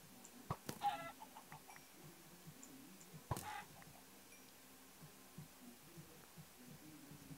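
Chickens in Minecraft, the survival game, give off a few soft clucks with short chirps in between, quiet and sparse over a low hum, with no speech.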